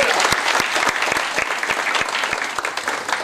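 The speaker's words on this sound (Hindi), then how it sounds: "ताली बजा आपने" Audience clapping at a new distributor workshop, a lively burst of many hands with individual claps popping out sharply, fairly close and continuous for a few seconds.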